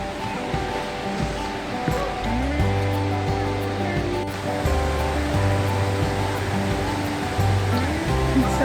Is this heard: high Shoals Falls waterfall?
yes